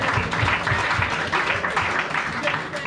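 A church congregation applauding during a French-language service, with steady dense clapping from many hands filling the space, sustained and fairly loud with a slight fade at the end.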